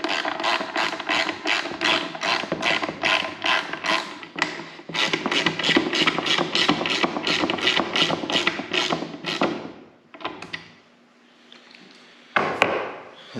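A fitting on a blow-off valve recirculating kit is tightened during installation on a Can-Am Maverick X3, giving close, rapid ratcheting clicks in bursts with short pauses and a few sharper knocks.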